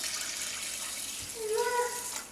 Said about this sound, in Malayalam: പയർ വേവിക്കാനായിട്ട് ഞാൻ 2 കപ്പ് വെള്ളം ഒഴിക്കുന്നു.